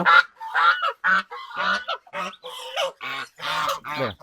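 A male goose, a gander guarding newly hatched goslings, honks loudly and close in a rapid, insistent series of nasal calls with brief gaps.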